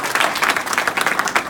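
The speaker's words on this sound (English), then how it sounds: "So let's give them a round of applause" Audience applause for a young man's parents at a celebration in Rochester, New York: dense, steady clapping from a crowd over a short stretch, fairly close and loud.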